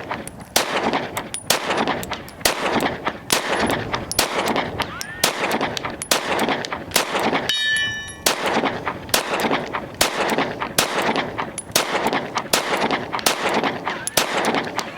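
Staccato C 2011 pistol, 4-inch, fires a long string of sharp, evenly spaced shots at a range, about a dozen loud cracks with a brief pause and faint ringing clang midway.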